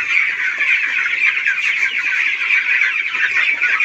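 Chickens on a poultry farm make a loud, dense, continuous chorus of high clucking and chattering, many birds close by with no pauses.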